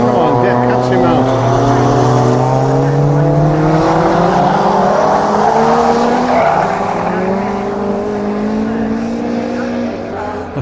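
Ford Escort race cars, a Mark 1 and a Mark 4, race at Lydden Hill circuit, engines howling loudly and rising in pitch as they pass close by in a sustained roar.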